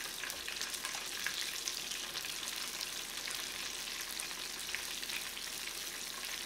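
Egg rolls on their second fry in hot oil, a steady, dense, crackling sizzle running evenly throughout, close and moderately loud, with no voices.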